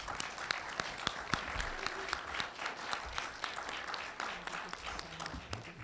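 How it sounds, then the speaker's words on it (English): At a DRBA 2017 meeting, a room of attendees gives a panel a steady round of applause, dense clapping at a moderate distance that carries on for several seconds, with faint voices underneath. "let's give this panel a round of applause."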